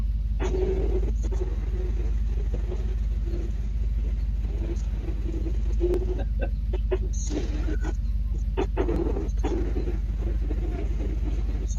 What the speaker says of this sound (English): you just play race car noises